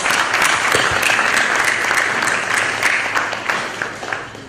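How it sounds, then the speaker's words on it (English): Conference audience at the NASSCOM MarTech Confluence 2015 applauding, a dense, steady wash of many hands clapping close by that holds for several seconds and thins slightly toward the end. "Ladies and gentlemen, come on, huge round of applause."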